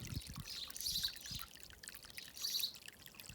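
Hot water running from a tap, a soft trickling pour that swells in two brief bursts over a quiet background, with no voices.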